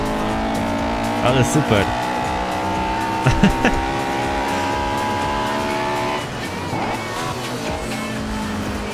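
A Honda S2000 with a VTEC engine drones steadily at low revs in the racing game Forza Horizon 2, with brief tire squeals, while someone talks over it.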